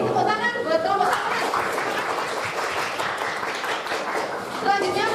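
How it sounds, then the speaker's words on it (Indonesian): A crowd claps for the first presenting group at an economics teacher-training session, a dense, steady patter of applause lasting the whole stretch with voices mixed underneath. "tepuk tangan buat kelompok satu"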